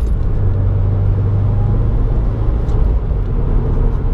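A 2018 Subaru WRX being driven in traffic at around 3,500 rpm, heard from inside as a loud, steady, low engine drone and road rumble that holds constant for about four seconds with no talking.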